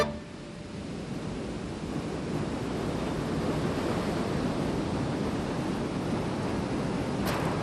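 Ocean surf pounds continuously, a broad rushing roar of breaking waves that swells slightly and holds steady throughout, with no voices.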